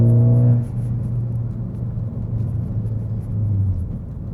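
A Ford Focus ST with an Accelatec 3-inch stainless steel cat-back exhaust cruises on a back road in fourth gear at about 2,300 rpm, giving a steady, fairly quiet low drone that eases slightly after an opening tone.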